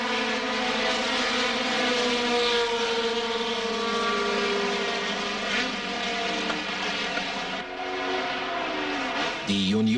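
Racing cars from the Deutsche Rennsport Meisterschaft starting at Hockenheim, with a dense, loud, sustained engine roar and shifting harmonic whine from several cars at once, ending in a brief change in tone near the end.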